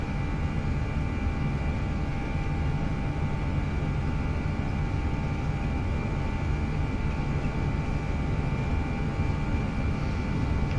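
Airliner engines in a flight simulator game spool up to takeoff thrust, producing a loud, steady broadband roar with a constant engine hum that holds through the whole stretch, without any voices.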